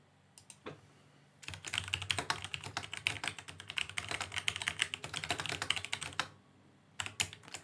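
Someone types a chat message on a computer keyboard in a healthcare records system. Bursts of rapid, close keystrokes run steadily, with short pauses and a final small cluster of taps.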